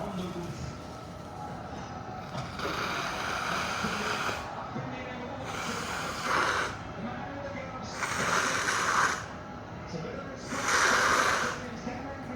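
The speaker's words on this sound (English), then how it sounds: "I'm just going to step to the side and blow my schnozzle" Someone standing aside blows a blocked nose into a tissue, several forceful nasal blasts in bursts of a second or two, close and fairly loud, with a voice talking in between.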